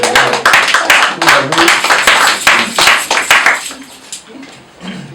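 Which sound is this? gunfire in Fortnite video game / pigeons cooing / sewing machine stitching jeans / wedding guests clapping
wedding guests clapping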